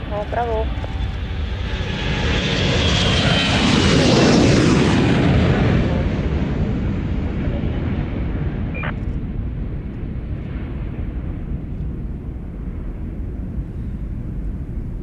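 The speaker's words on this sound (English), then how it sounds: "the Airbus A340 from the German Air Force. And on the Sunday, this was rattling like crazy" A German Air Force Airbus A340 passes at an air show, its jet roar swelling to a loud peak and then fading, with a steady rumble throughout.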